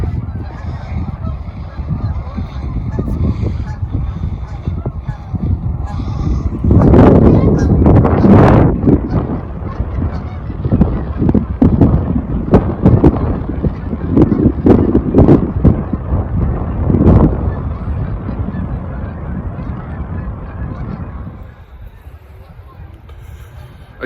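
A flock of geese honks at dusk outdoors, many loud overlapping calls clustered over steady wind rumble, busiest in the middle and thinning toward the end.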